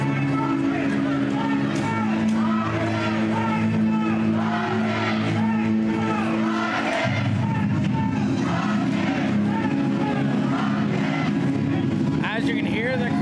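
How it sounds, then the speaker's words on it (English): Fans at a junior hockey game between the North Dundas Rockets and Gananoque Islanders chant in a rhythmic, repeated crowd roar through an arena, with a commentator talking close over the top throughout. "As you can hear the crowd giving a chant for Let's Go Rockets"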